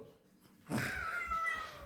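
A single drawn-out cat meow, close and clear, starting after a brief quiet lead-in and holding steady to the end.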